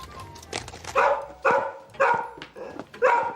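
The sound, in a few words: dog barking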